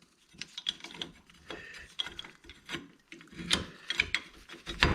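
A brake caliper with its pads being worked back onto the disc, a close run of scraping, rubbing and ratcheting metal clicks with uneven rhythm and no talking.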